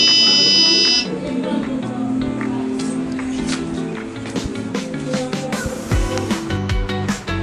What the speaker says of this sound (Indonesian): maka buzzer akan berbunyi kembali selama 5 detik